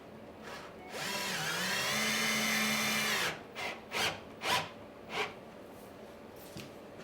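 A power drill drives screws into a wooden raised container planter panel: one long whining run followed by several short, sharp bursts, close and loud with quiet gaps between.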